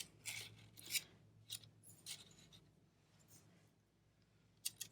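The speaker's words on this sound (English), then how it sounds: "So I trimmed a little bit more away at the top" Scissors trim folded paper in a quiet room, several soft crisp snips and rustles in quick succession, faint and close, with a sharp click near the end.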